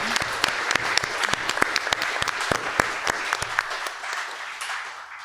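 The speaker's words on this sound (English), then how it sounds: "Big round of applause to Team No." Sustained audience applause at an AI debate for the winning team, steady close clapping from a room full of people that gradually thins and fades over about five seconds.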